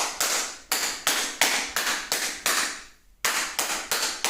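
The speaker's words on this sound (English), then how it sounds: "Let's do clap test." Sharp hand claps ring out one after another at a steady rhythm in a home theater room with the door closed, each snap close and loud with a brief room tail, and a short gap before the last few.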